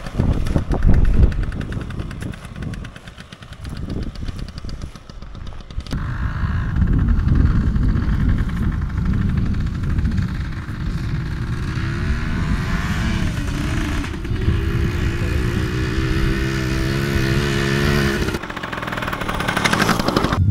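A Yamaha PW80 little motorbike engine runs after a repair, revving hard at first, then settling into a steady buzzing putter close by that rises and falls slightly for about twenty seconds.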